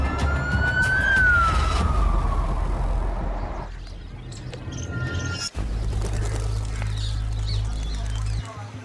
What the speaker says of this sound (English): We should put on our siren and get there